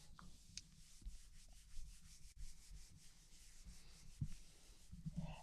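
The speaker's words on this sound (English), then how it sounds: "We're going to give it a really nice little rub." A hand rubs a sheet of paper firmly across a gel printing plate, giving a soft continuous brushing and scuffing sound with a few small bumps, close and fairly quiet.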